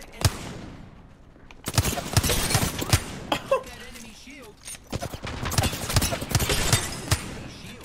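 Bursts of gunfire in an Apex Legends match, sharp volleys spread across the clip with short gaps between them, loud and close, with people talking over them.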